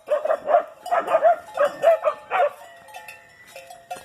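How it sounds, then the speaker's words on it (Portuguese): Dogs out in the countryside bark in a quick series of sharp, close barks at cattle, then the barking trails off into fainter yips and a cowbell-like clank. "Cachorro querendo pegar o gado."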